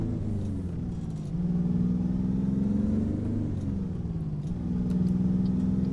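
Simulated Kenworth W900B truck engine from American Truck Simulator, a steady low rumbling drone that swells as it accelerates and shifts, close and continuous with no talking.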